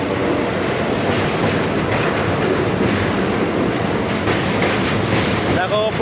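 A Howrah to Digha local train crosses the Kolaghat rail bridge, a loud, close, unbroken rumble with rhythmic wheel clatter running throughout.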